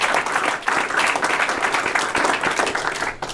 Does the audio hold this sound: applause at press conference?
yes